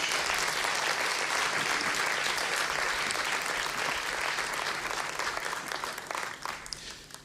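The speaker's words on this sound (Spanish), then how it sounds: "Vamos a darle un aplauso al Señor por Lina." Applause from a church congregation, a dense steady wash of many hands clapping together that thins and fades toward the end.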